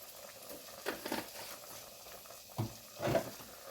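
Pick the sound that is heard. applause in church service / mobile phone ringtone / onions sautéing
onions sautéing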